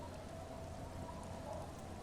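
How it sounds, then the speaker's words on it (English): Steady rain streams down onto the yellow hull of a fishing boat in the Disco Elysium video game, a dense even hiss with no breaks, moderately loud and alone. "She looks at the rain streaming down the yellow belly of the boat."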